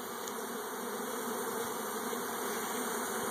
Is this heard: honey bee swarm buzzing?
yes